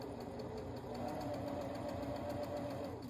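A sewing machine stitches a pillow, its rapid mechanical chatter running steadily at close range in a quick, even rhythm for a few seconds.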